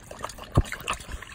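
Ice water trickles and splashes as it is poured over an American Bully dog outdoors, with a brief louder splash in the middle amid a faint, uneven patter.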